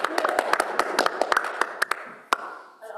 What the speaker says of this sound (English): Are we allowed to clap?